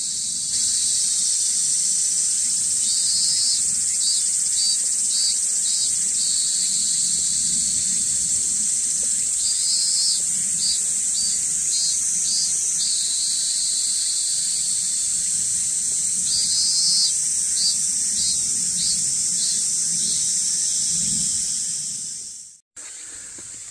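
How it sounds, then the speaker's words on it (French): A cicada on a hillside above a town in Shikoku, Japan, buzzes in short, stuttering pulses that repeat in spaced clusters over a constant high, hissing insect drone. "il y a une cigale qui a du mal à démarrer"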